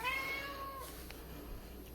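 A house cat meows once in a short, drawn-out call in a kitchen, fairly close but soft against quiet background hiss.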